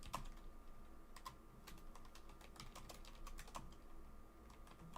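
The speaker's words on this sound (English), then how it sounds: "don't judge me for my poor typing" Rapid, uneven typing on a computer keyboard, with clicky keystrokes in bursts and short pauses, steady and close, no voices.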